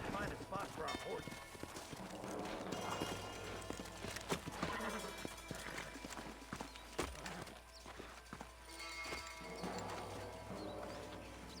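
Horses' hooves clip-clop at a steady trot in the Red Dead Redemption video game, a continuous rhythmic clatter running under people talking.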